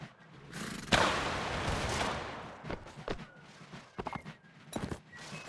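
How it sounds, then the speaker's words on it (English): Musket volley fire in Mount & Blade Warband, an American Civil War battle: a sharp crack near one second starts a ragged burst of overlapping shots, followed by scattered single reports and footstep-like thuds. "we'll get some kind of semblance of volley fire going here, though"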